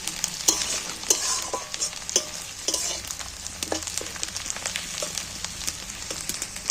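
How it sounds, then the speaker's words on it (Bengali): Chopped onions and green chilies sizzle steadily in hot oil in a pan while a utensil scrapes and stirs them, with sharp clicking strokes repeating at uneven intervals close by; no voices. "পেঁয়াজটা ভাজা হয়ে গেছে"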